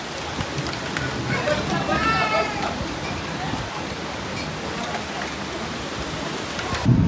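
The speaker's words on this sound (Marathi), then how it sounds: "थोडासा फ्लो पावसाचा कमी झाला, स्पीड कमी झाली आहे, पण आणखी सुद्धा रस्त्यावर खूप पाणी आहे" Heavy monsoon rain runoff surging across a flooded road in Talegaon, a steady loud rushing wash of water throughout, with a few brief voices and splashes over it.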